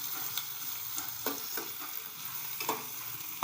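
Paneer masala fries in a pan until browned, with a continuous sizzle broken by the repeated scrape and clack of stirring against the pan.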